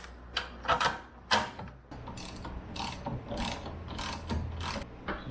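A ratchet wrench tightens the nut on a strut mount during lowering of a 1988 Mercury Cougar, giving bursts of close, crisp clicking in uneven strokes with short pauses between them.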